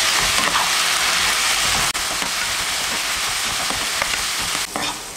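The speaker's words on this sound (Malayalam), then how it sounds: "ഫ്രൈ ചെയ്ത് വെച്ചിട്ടുണ്ടായിരുന്നില്ലേ ചിക്കൻ പീസസ്, അത് ചേർക്കുവാണ്. നന്നായി മിക്സ് ചെയ്യാം." Fried chicken pieces stirred into a hot, sizzling sauce for restaurant-style Chicken 65. Loud, steady frying hiss runs throughout, with faint stirring scrapes and no talking.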